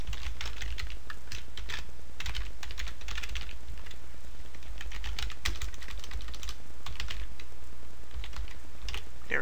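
Rapid, steady clacking of a computer keyboard being typed on at close range, with irregular bursts of keystrokes over a low background hum.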